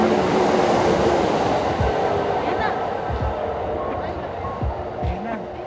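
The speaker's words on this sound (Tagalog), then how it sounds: "Ito na yung train papuntang Nara." A train bound for Nara, Japan rumbles along with a steady low roar and faint clatter, while people talk nearby over the noise.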